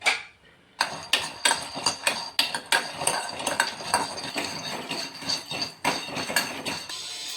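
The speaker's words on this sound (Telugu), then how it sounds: "తర్వాత స్టవ్ వెలిగించుకొని చిన్న బాణలిని పెట్టి ఈ పల్లీలను వేయించుకోవాలి." Peanuts roasting and being stirred in a small frying pan on a stove, with repeated sharp scraping and clinking strokes of a spoon against metal, close and fairly loud, continuing steadily with no talk.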